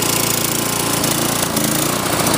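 Sears snowblower engine idling while it warms up on half choke, a loud, steady, rough mechanical drone that runs unbroken with no voices over it.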